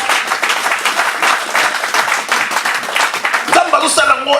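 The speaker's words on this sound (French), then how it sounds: "Est-ce qu'on peut acclamer les Seigneurs?" A church congregation breaks into sustained applause and cheering for the Lord, with loud, dense clapping throughout, and a voice rising over it at the close.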